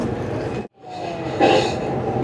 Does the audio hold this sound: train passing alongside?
yes